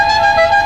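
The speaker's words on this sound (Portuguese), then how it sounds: "Uma buzina fiã!" A car horn blares in one steady, loud, continuous honk out on a São Paulo street, holding a bright tone for the whole moment with no voices over it.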